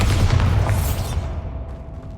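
A Bombarda blasting spell from Hogwarts Legacy going off: a deep, loud booming explosion with rumbling low end that fades over about two seconds.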